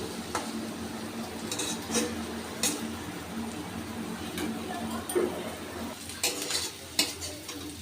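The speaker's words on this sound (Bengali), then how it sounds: "পেঁয়াজের সাথে ক্যাপসিকামগুলো আমি একটু ভেজে নেব।" Onions and chopped capsicum frying in a pan make a soft steady sizzle under repeated scrapes and clinks of a spatula stirring against the metal.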